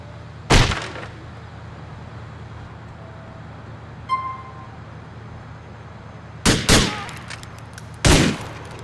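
Gunfire in a Grand Theft Auto IV shootout: a sharp single shot, then a quiet stretch with a faint distant pop, followed by a close cluster of two loud shots and another loud blast near the end.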